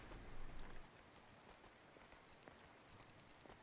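Soft, steady rainfall patters in the background of the video game Cloudpunk, quiet and continuous, with occasional faint ticks and drips standing out.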